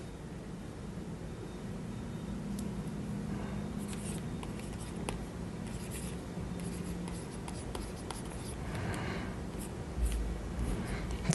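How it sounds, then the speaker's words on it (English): Chalk or pen strokes from handwriting during a lecture on the development of the face and palate come as quiet, irregular scratches and taps, close and soft, with no talking. "Let me write that for you."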